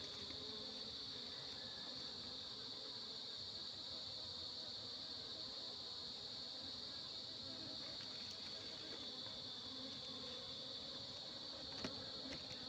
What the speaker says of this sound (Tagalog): nahawakan ko yung mga bubuyog